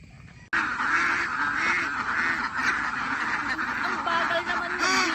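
A flock of farm ducks at a rural Ilocano homestead quacks continuously and loudly at close range after a sudden start, with overlapping nasal calls throughout.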